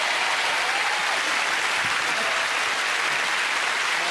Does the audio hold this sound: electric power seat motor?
no